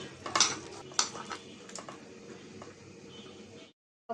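Chicken pieces being mixed by hand with turmeric, chili powder and a little salt in a metal bowl, with a few clinks of a dish early on and then soft squishy rubbing that stops abruptly.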